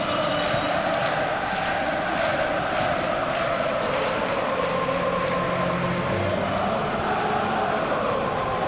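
A capacity stadium crowd in FC26 for a Premier League match between Liverpool and Manchester City keeps up a steady, dense roar throughout, with no clear individual voices standing out.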